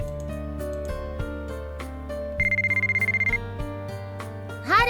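A mobile phone rings in the Japanese visual novel game White Album 2, a bright electronic ringtone trilling in a rapid burst over the game's steady background music, with no voices.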